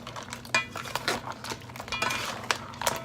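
Eggs being stirred into a Lao-style yellow curry crab in a pot, with scattered clinks and scraping taps of a utensil against the cookware at an irregular rhythm, close and moderately quiet.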